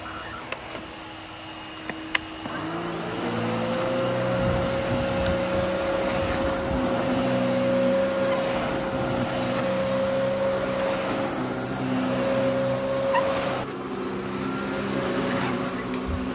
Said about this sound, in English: Okay, let's go and start vacuuming.